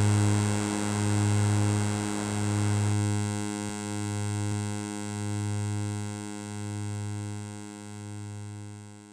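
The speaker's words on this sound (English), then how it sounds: "Of course, we can mix the noise with the main oscillators." Noise blended with the main oscillators on SynthieCat, a software recreation of the EMS Synthi A synthesizer, gives a steady harmonic drone with a hissy wash that later thins out, and a slow, regular pulsing swell in the low end runs throughout.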